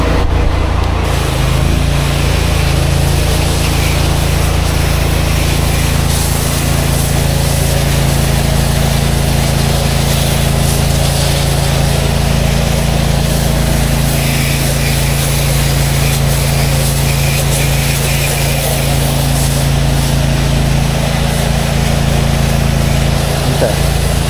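The engine of a pressure washer, used to clean a townhouse exterior, runs at a steady idle-like drone for the whole stretch, loud and unchanging, with a constant low hum throughout.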